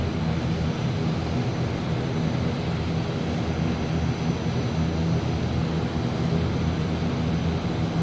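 Turboprop engines of an ATR-72-600 in Microsoft Flight Simulator drone loudly and steadily while taxiing, a constant whirring hum with a tonal low buzz throughout.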